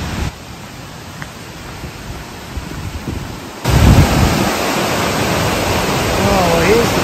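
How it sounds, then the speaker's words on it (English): Millaa Millaa falls in the Atherton Tablelands, on a cloudy, foggy day, give a steady broadband rushing roar that jumps louder about halfway through. A faint voice sounds near the end. "You can hear the falls."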